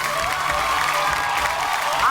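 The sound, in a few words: studio audience applause on Marathi TV show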